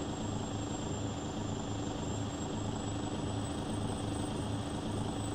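A large airplane flying overhead outside makes a constant, even engine drone with a pulsing low rumble and a thin steady whine above it, unbroken and voiceless.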